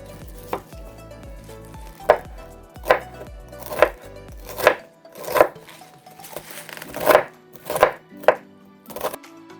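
Mustard greens (saag) chopped with a knife on a board, about a dozen sharp, close knocks at an uneven pace, with faint background hum and no talk.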